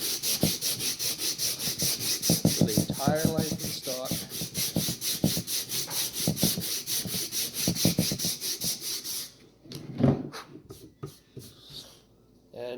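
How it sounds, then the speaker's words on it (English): Coarse 60-grit sandpaper rubbing steadily along a wooden gun stock during refinishing, a close, continuous rhythmic scratching with a brief spoken line partway through and a short pause near the end. "we're just going to continue on with our sanding 60 grit paper"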